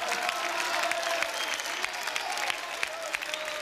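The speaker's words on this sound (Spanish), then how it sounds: "Un gran aplauso para despedir a nuestro invitado de hoy, José Antonio Sardoya" An audience gives a warm round of applause to see off a departing guest at a youth program, dense continuous clapping with light cheering, fairly close and steady.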